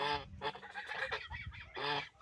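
Geese on a Ukrainian household farm honk loudly and close by, a harsh two-part call at the start, a burst of busier clucking honks in the middle and another strong honk near the end.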